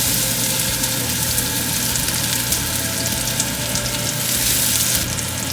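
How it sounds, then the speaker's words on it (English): Garlic sautéing in hot oil in a pan makes a loud, steady, close-up sizzle that holds evenly throughout without pauses or voices. "Okay, now I'm ready to saute the garlic."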